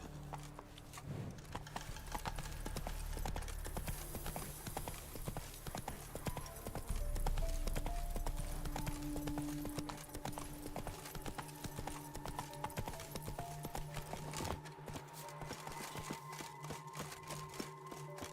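Horse hooves clip-clopping at a gallop in The Witcher 3: Wild Hunt, a steady fast rhythm of hoofbeats over game ambience and music, moderately loud throughout.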